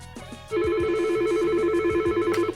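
Phone call tones from the 3CX web app during an attended transfer: a steady repeating ringback pattern with a brief dialing burst at the start, clear and close with no talk.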